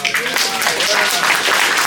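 Audience applause at a panel discussion on the human costs of war, a brief wash of clapping heard under a speaking voice.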